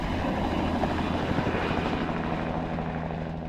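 A Bell 206 air medical helicopter runs steadily and loudly with a continuous rotor and turbine drone, a constant close wash of engine noise throughout with no voices.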